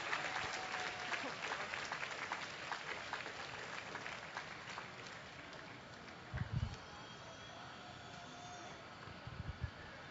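Crowd at the Minnesota State Fair applauding a llama costume competition entry, sustained outdoor clapping and cheering that fades toward the end, with a few muffled thumps and a faint voice in the background.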